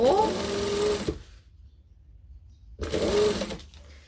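A sewing machine stitches homemade piping at a long stitch length, whirring in two close bursts separated by a short silent pause.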